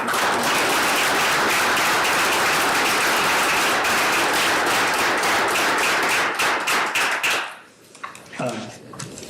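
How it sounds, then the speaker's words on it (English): An audience at a school board meeting applauds, with dense, steady clapping for about seven seconds before it tapers off into a few scattered claps. "So how about a round of applause for Scott Jones?"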